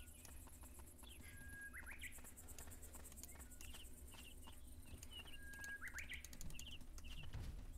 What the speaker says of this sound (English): The birds. You can hear the nature and such.